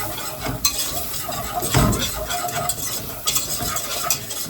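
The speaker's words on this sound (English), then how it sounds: "And then stir that in to make it thick." A spoon stirs a thickening onion soup base in a pot, making close, repeated scraping and sloshing sweeps over a low sizzle, with occasional metal clinks and no talking.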